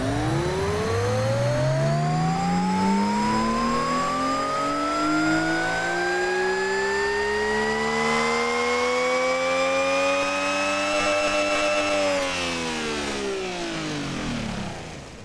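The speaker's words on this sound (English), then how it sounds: "This engine is going to sound ridiculous." Video game engine with twin tiny turbos and about 1,500 horsepower revs up in one long, smooth rising sweep, holding a loud buzzing tone before easing slightly downward near the end, heard alone without talk.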